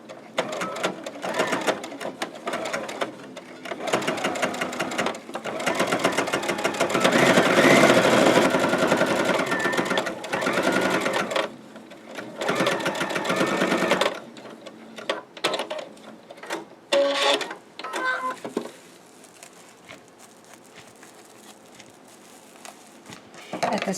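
A sewing machine runs steadily, stitching a quarter-inch seam on a fabric finger pot holder, with a close, continuous mechanical whir that eases into shorter runs and stops near the end while someone talks.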